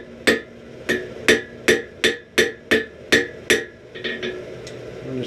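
A hammer forges a chain link on an anvil, with about nine evenly spaced, ringing metallic blows followed by a few lighter, quicker taps near the end.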